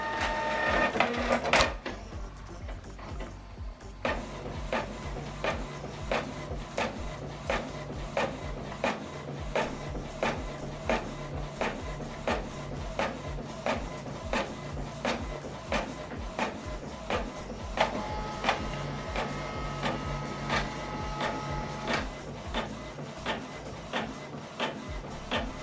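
A Canon Pixma MG3650 printer copies a document in color, its mechanism clicking and whirring in a steady, regular rhythm for over twenty seconds, close and moderately loud, after an initial clunk as it starts.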